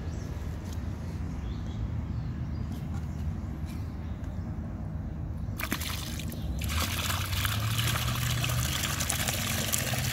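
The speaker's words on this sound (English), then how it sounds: "This bucket is full of tadpoles, so we're gonna launch them into this river" Water sloshes and pours as a bucket of tadpoles is tipped into a river, a soft trickle building into a fuller splashing gush partway through, with faint outdoor ambience and no talk.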